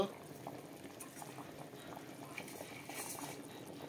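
Fish tipped into a pot of simmering curry broth with taro and potato, a steady bubbling boil with soft liquid splashes, close and moderately quiet, with a voice talking over it.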